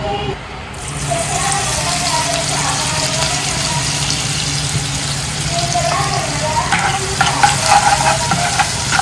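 Thecha chili paste hitting hot oil with asafoetida, a loud, dense, steady sizzle and stirring that continues without a break, with brighter crackles toward the end.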